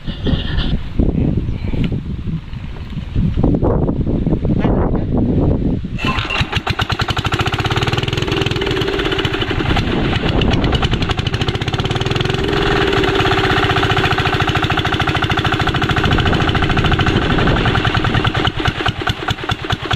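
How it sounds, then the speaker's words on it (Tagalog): An engine labours loudly and steadily, rising into a hard, strained roar after a few seconds of rougher, uneven running, and holding there to the end. "Masyadong hirap yung makina"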